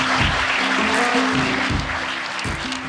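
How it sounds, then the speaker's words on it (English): An audience at an outdoors hall of fame induction ceremony claps warmly for an inductee, a dense, steady round of applause with a low hum underneath. "I would like you all to join me in giving him a warm round of applause"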